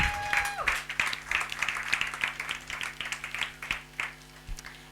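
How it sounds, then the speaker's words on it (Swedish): An audience at a film festival studio event claps throughout, with individual claps standing out as the applause gradually thins. "Kan vi inte hon också få en applåd?"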